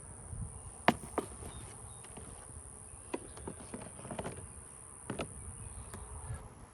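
Honeybees around a hive at a cow pasture apiary, a soft steady hum with occasional sharper clicks and taps close by, quiet and without talk, a thin high tone running throughout.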